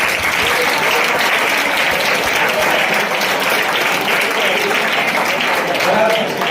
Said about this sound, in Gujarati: એટલે જોરદાર તમારા જે સ્ટાફ છે એના માટે એકવાર તાળીઓ પાડી દો